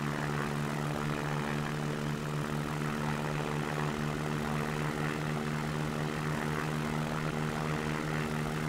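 Steady, loud drone of a propeller aircraft engine at full throttle in the X-Plane flight simulator, a constant hum with strong harmonic tones and no change in pitch throughout.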